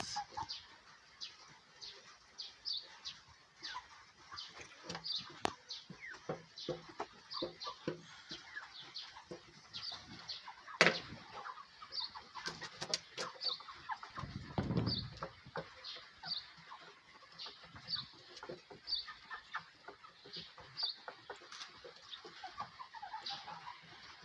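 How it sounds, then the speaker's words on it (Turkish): A flock of turkeys on a village farm gobbles and clucks continuously at moderate distance, with overlapping calls, occasional sharp squawks and scattered rustling sounds throughout. "Bunlar da hindilerimiz."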